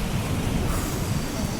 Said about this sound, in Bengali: কি জোরে বৃষ্টি হচ্ছে আর এইদিকে ঝড়ও উঠছে।